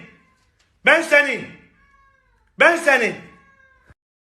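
A tabby cat gives two long, loud, drawn-out meows close by, separated by a short pause.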